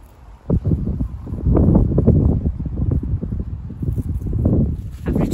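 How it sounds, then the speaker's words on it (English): Gusty wind buffets a microphone outdoors in a vegetable garden where onion sets are being planted, a steady low roar with louder surges throughout and no speech. "The wind has really started kicking up."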